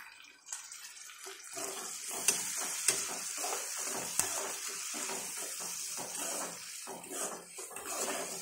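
Mixed vegetables frying for sambar in a pan, a steady hiss of sizzling with repeated stirring scrapes and a few sharp clinks, close and fairly loud throughout, no talking.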